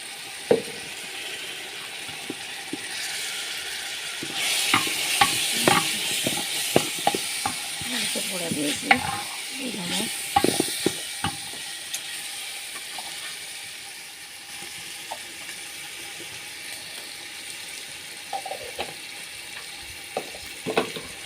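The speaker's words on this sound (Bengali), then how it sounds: "মশলাটা কষিয়ে নেব" Dry ground spices, coriander powder and turmeric, frying and being stirred in a pan for an Eid meal: a steady sizzling hiss with scattered scraping clicks of the spoon, louder in the middle stretch, no talking.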